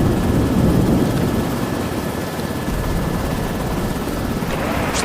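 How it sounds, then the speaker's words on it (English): A helicopter flies overhead with a steady, loud rotor roar and engine rumble that fills the whole stretch without a break, and no voices are heard. "So I have to put the helicopter down."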